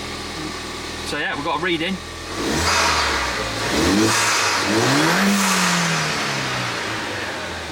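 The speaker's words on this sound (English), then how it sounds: "Ignition on, start up." A Ford Fiesta ST180 track day car starts up with a brief cranking whir, then the engine catches and revs in rising and falling sweeps before settling to a steady idle, close and loud, with someone talking over it.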